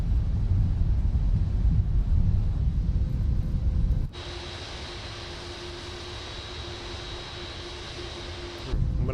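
A Boeing 747-8F in Microsoft Flight Simulator shifts from a heavy low engine roar to idle reverse thrust, a steadier rushing hum with a thin high whine, before the roar swells back at the end.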